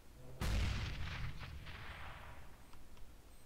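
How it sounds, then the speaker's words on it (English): A grenade goes off in Counter-Strike with one loud, sudden blast and a rumbling tail that fades over a couple of seconds, a few fainter cracks trailing after. "I'm throwing a grenade."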